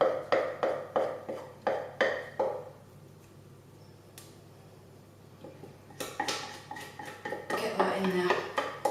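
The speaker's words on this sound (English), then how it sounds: "scrape that all down" A utensil scrapes and knocks against a pot while getting out liquid caramel for millionaire's shortbread: a run of quick sharp clatters, a pause, then busier scraping and clinking, with a voice talking.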